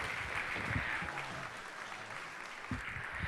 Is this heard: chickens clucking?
no